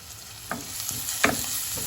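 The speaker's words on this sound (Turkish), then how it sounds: "Güzelce kokusu çıkana kadar kavuruyoruz." Soft, steady sizzling of onions and garlic frying in a pan with very little oil, with a few sharper stir clinks and scrapes cutting through.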